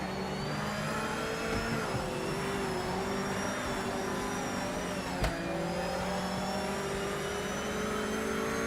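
Race car engine in the Project Motor Racing video game, a continuous high, whining drone with rising harmonics and one brief blip as a paddle downshift is made, steady and fairly close.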